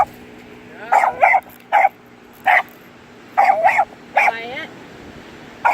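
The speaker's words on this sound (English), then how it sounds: "The dogs are getting closer" Dogs bark in a series of sharp, loud yips and bow-wows outdoors on a beach, coming in short bursts with gaps between, while a person speaks briefly.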